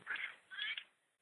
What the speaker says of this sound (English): And there's a seagull.